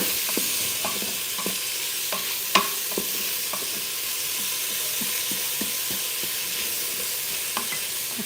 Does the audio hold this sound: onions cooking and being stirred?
yes